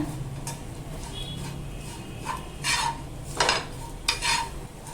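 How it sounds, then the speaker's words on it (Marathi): Dried coconut roasts in a pan for a Malvani egg curry masala, with a faint dry sizzle and several sharp scrapes and clinks of a spatula against the pan as it is stirred. "आता आपण यात ना सुकं खोबरं टाकून घेऊया ते पण थोडं असं छान भाजून घेऊया"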